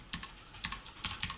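Quick bursts of computer keyboard typing while HTML code is entered, several rapid clusters of crisp key clicks, close and fairly quiet, with no voice.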